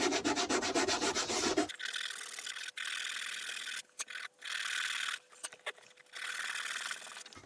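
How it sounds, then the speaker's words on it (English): Sandpaper rubbed by hand over a leather seat from an Escort RS Turbo, heard as close, rasping scrubbing strokes in bursts separated by short pauses, after a noisy opening moment. "This seems very strange, sanding some leather seats."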